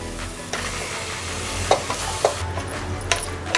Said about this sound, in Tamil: சிக்கனையும் போட்டு நல்லா மிக்ஸ் பண்ணிட்டேன்